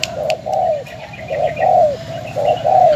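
Close, loud cooing of a spotted dove repeats in a steady rolling pattern of soft throaty notes, clear and alone.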